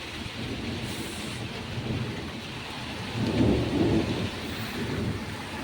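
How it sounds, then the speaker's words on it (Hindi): Heavy downpour with a steady hiss of rain hitting surfaces, joined midway by a low rolling rumble of thunder during a sudden storm, continuous and fairly close with no talking. "खतरनाक ही बारिश हो रही है"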